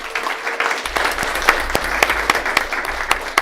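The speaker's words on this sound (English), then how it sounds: "Let's give them a round of applause." An audience applauds a primary school team with sustained, dense clapping throughout, fairly loud and close.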